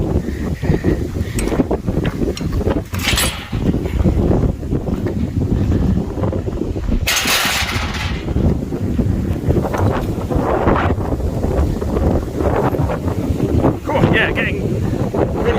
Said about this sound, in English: picking up the wind here, I can really feel the sort of pushing me towards the left